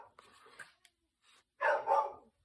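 A dog barks twice in quick succession near the end, loud and close, announcing someone arriving at the house to make a delivery; brief fainter sounds precede it.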